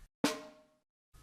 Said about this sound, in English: the RD snare number 10